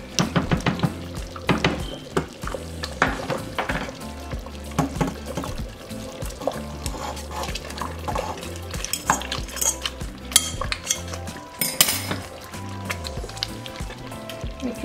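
Beef pieces going into a pot of thickened green chile sauce, with steady metal utensil scraping and clinks against the pot mixed with wet stirring and sloshing throughout, close and fairly loud, no speech.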